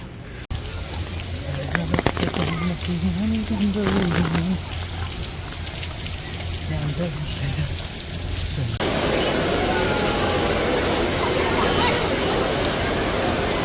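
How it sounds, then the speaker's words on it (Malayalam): Rain at Gardens by the Bay, Singapore, falls as a steady broadband hiss that grows denser and more even partway through. A voice speaks briefly early on. "ഇവിടെ മഴയാണ് ഇപ്പോൾ."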